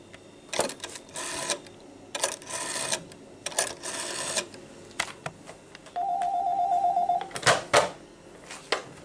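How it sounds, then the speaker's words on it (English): A GEC 746 clone telephone made in the UK gives a steady, buzzing dial tone lasting just over a second, set among handset clicks and rustling handling noises. "There's a dialing tone."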